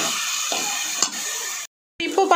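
Onion and ginger sauté in hot oil with a steady sizzle and a few stirring scrapes, cut by a brief silence and then a short burst of talk at the end.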